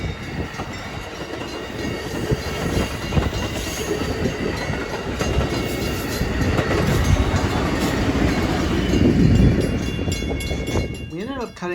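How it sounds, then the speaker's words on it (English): Amtrak Hiawatha passenger train led by an F40 NPCU cab car rolls inbound past a trackside spot, its steady rumble and wheel clatter building loud and close over the whole stretch before easing near the end. "we got the inbound Amtrak Hiawatha coming in"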